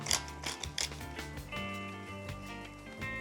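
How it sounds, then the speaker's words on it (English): A pepper mill grinds fresh black peppercorns in a few quick, close ratcheting bursts near the start, then a softer mechanical whirr continues over a steady tonal background. "Pinch of salt and some black pepper. Freshly grated, always freshly grated."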